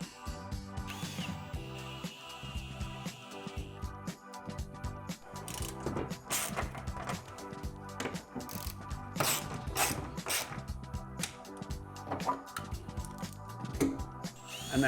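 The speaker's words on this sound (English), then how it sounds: "Secure those bolts in the wall." A ratchet tightens bolts that secure a TV wall mount into the wall, giving steady repeated clicking and mechanical turning close by, with no talk over it.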